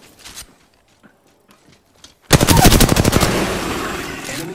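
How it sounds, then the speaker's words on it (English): Rapid automatic gunfire erupts in Apex Legends after a quiet stretch of scattered faint clicks and footsteps, then a loud, dense burst of shots keeps hammering close up to the end. "Opening fire on the enemy."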